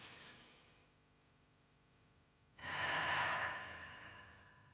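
A single deep inhale through the nose during a relaxing breathing exercise, quiet at first and then a fuller, breathy rush of air close to the listener that slowly fades.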